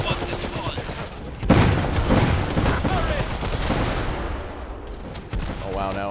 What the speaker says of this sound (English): So let's try to go with these units now, machine gun units.